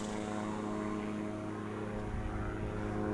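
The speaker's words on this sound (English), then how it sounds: "You hear the little ultralight planes flying over." Small ultralight aircraft flying overhead outdoors on a farm, a steady propeller engine drone with a broad, continuous hum that stays loud and level throughout, no voices.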